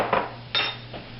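Spoonful of ginger garlic paste put into a hot cooking pan for chana masala, heard as two or three quick metallic clinks of a spoon against the pan over a steady low hum, with no talking.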